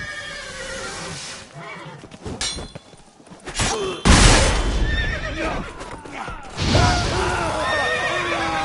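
A horse whinnies loudly and shakily in the video game The Witcher 3: Blood and Wine, then again later, with hoof thumps and general outdoor commotion in between.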